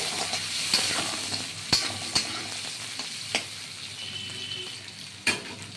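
Oil sizzles steadily in a kadai as small mourola fish fry, with a few sharp clicks and scrapes of a utensil stirring.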